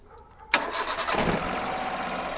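A car engine cranks and catches at once, then settles into a steady idle, close and fairly loud, during a check of an overheating engine's blower and coolant temperature.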